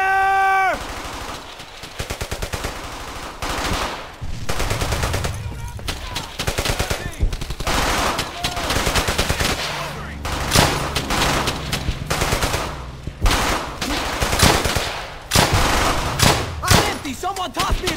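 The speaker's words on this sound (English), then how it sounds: "Suppressing fire!" Gunfire in the World War II shooter game Brothers in Arms: loud machine-gun bursts and rifle shots crack close by in rapid, uneven volleys throughout, with occasional shouted voices.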